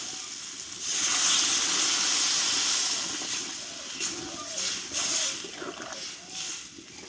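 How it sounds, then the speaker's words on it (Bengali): Water poured into a hot pan of potato and pointed gourd curry, giving a loud rushing hiss and sizzle that swells after the first second and gradually settles into a softer bubbling with a few clinks. "এবার আমি জলটা দিয়ে দেবো"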